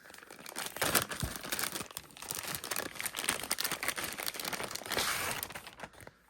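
Plastic packaging of a Star Wars Shatterpoint miniatures kit crinkling and tearing as it is opened, close and moderately loud in uneven bursts.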